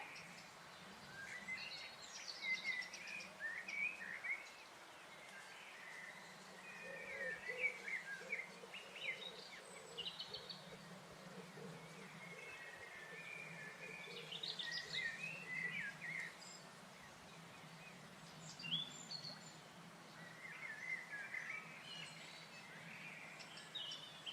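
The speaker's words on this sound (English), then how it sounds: "birds are very vocal at this time of day, asserting their right to their territory." Several birds sing and chirp in bright, scattered phrases beside the River Teifi, over a soft, steady background hum of moving water and insects.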